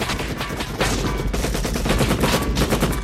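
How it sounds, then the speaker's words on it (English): Gunfire from a jungle firefight in the film Predator, guerrillas shooting in rapid, dense automatic bursts, loud and continuous with no talking. "a couple guerrillas that are firing at Hawkins and Ponchito"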